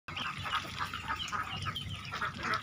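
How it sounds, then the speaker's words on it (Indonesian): A flock of 14-day-old meat ducklings feeds on papaya leaves, making a continuous, close, busy chorus of overlapping quacks and calls with no clear pauses. "bebek-bebek ini memakan daun pepaya dan kelihatan sehat"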